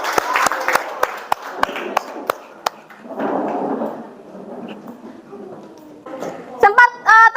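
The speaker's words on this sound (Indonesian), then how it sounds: "tepuk tangan untuk kita semua" A classroom of students breaks into brief applause, with a few sharp separate claps and a short burst of clapping, followed by talking voices.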